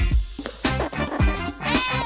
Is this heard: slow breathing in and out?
no